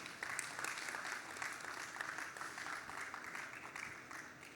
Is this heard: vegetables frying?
no